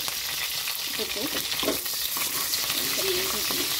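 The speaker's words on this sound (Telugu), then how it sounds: "చూడండి, ఇలా కలుపుకోవాలి. లైట్గా వేగితే చాలు." Sliced onions and green chillies sizzle in oil for chicken curry as they are stirred, giving a steady, fairly loud fry with scraping stir strokes scattered throughout.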